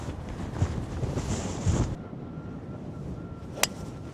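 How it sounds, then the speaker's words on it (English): Gusty wind buffets the microphone with low rumbling bursts for a couple of seconds, then eases to a quieter breezy background with a brief sharp click. "I think that's just to display how windy it is."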